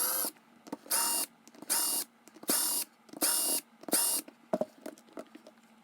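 A Redcat Cyclone XB10 RC car wheel is taken apart with a small powered tool that whirs in six short, evenly spaced bursts, close and fairly quiet, followed by a few sharp clicks and taps.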